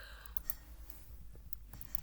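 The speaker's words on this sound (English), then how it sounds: "I can hear your keyboard. You don't need to type that." Faint computer keyboard typing, a scattering of quick, light key clicks at an irregular rhythm, heard from a distance against a low background hum.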